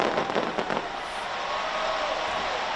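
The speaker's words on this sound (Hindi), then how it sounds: "और शानदार आतिशबाजी से शुरुआत नए साल की।" New Year fireworks over Auckland, New Zealand, crackling and popping in a rapid distant barrage at first, then settling into a steady hiss of sparkling crackle.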